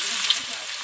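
Oil frying with panch phoron spices and chopped onion gives a steady, bright sizzle, close and even, in a short burst with no talking, for a village-style Bengali rohu fish curry with ridge gourd and pumpkin.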